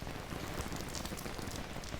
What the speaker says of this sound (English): Natchitoches, where the rain's still coming down